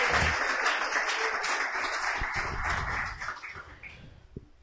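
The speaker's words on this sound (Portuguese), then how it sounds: "Você pode aplaudir o Senhor nessa noite?" A church congregation applauds during an evening service, a broad wash of clapping that holds steady, then thins and fades toward the end.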